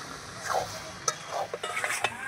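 Meat being stir-fried (kosha) in a pan, with a steady soft sizzle and intermittent scraping and clinking of the spatula against the metal as the meat is turned, with no talking.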